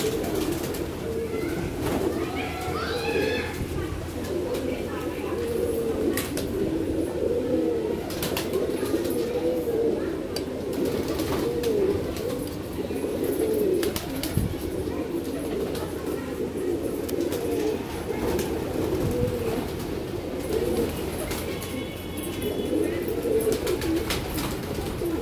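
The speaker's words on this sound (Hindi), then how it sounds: "जिसके अंदर कबूतर भरे हुए हैं।" A dense flock of pigeons in a loft coos continuously at feeding time, low throaty warbling overlapping throughout, with occasional wing flutters and faint background noise.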